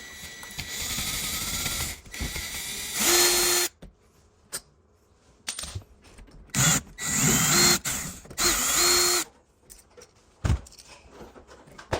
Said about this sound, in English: Now can remove the remaining parts of the lock using a drill.